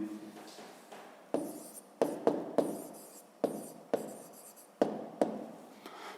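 Pen writing a maths answer on paper at close range, quick scratchy strokes in several short bursts separated by brief pauses, with no talking.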